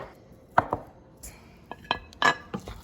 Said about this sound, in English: now I'm gonna dice them